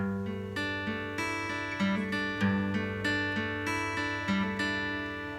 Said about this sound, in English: This guitar pattern right here.